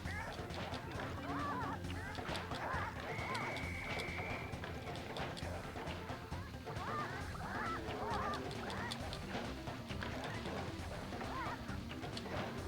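Chickens cluck and squawk in a Sly Cooper video game minigame, a busy run of overlapping fowl calls and flapping over a steady game soundscape, with talking mixed in.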